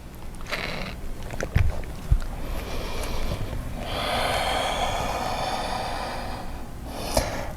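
Breathing during a seated chair yoga stretch: a couple of short sharp sniffs and snorts, then one long drawn-out breath, close to the microphone, with no speech.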